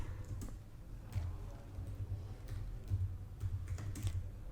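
Steady clatter of typing on a computer keyboard, rapid irregular key clicks running continuously at close range and moderate volume, with no talk over it.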